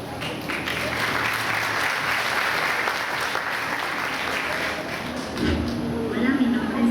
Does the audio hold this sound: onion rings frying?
no